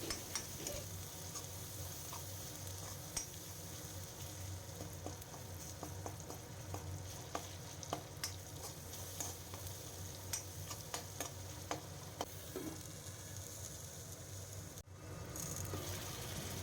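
Tomatoes, ginger, garlic and onion with salt and turmeric fry in a covered pan for a fish curry, giving a steady faint sizzle dotted with small crackles and pops, with no talking.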